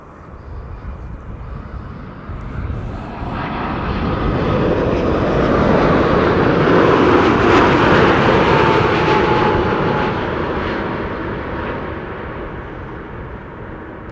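A jet airliner on arrival at Amsterdam Schiphol Airport passes close overhead, its loud engine roar swelling to a peak midway and then slowly fading, heard alone.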